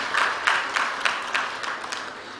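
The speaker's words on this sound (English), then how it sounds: "Can we have a big round of applause for all and everyone who have shared their pictures?" Applause rises for contest entrants who shared family celebration pictures, a steady patter of many hands with small swells throughout, moderately loud and close.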